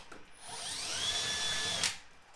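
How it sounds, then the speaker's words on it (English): A power drill with a 1/4 inch bit bores a hole while installing a tail light on a Ford F150, a short high-pitched whine rising and holding for about two seconds, close and alone. "So let's go ahead and drill the hole."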